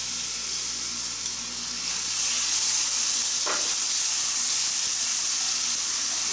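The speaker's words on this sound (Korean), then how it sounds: "다음에 준비된 김치를 넣고 볶아주세요" Kimchi sizzles and hisses steadily as it is stir-fried in cooking oil in a hot pan, loud and close, with one brief scrape partway through.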